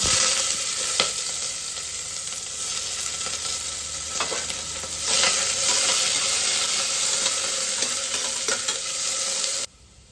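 Sliced onion and green chillies frying in hot oil in a pan for soya biryani, a loud continuous sizzle with scattered pops and crackles, cutting off abruptly near the end; no one speaks.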